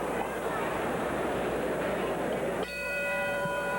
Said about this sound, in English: The bell ending round 4.